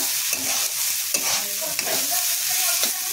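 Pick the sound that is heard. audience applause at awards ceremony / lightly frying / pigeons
lightly frying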